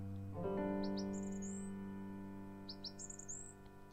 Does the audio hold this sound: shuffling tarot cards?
no